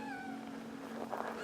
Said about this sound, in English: Oh, we got cats out here.